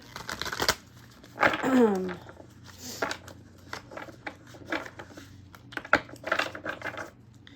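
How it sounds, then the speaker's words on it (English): Tarot cards are riffled and shuffled close by in quick bursts of crisp flicking and slapping, with soft pauses between. "So let's shuffle."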